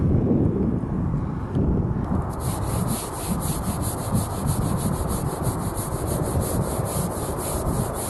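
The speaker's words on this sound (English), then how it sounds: "My roof is so dirty, so I'm going to take a couple hours and scrub this clean." Dirty rubber RV roof being scrubbed by hand, a continuous coarse rubbing and brushing close up, with some wind buffeting the microphone.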